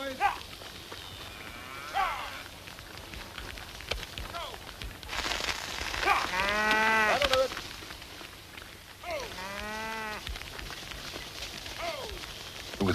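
Cattle moo loudly in a farmyard, several drawn-out calls rising and falling with a steady rain-like hiss underneath and faint human voices.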